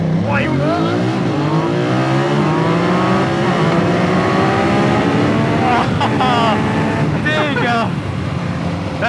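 BMW F900R motorcycle accelerating hard at full throttle, the engine note sweeping up repeatedly through gear changes, loud and close throughout, with excited voices talking over it.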